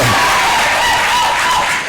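An audience at a live entertainment show cheers and applauds for Felix Kim, a loud, continuous roar of crowd noise and whoops.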